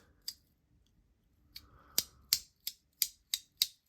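Crisp, close clicks from a small toy, one early then a quick regular run of about eight snaps in a quiet room.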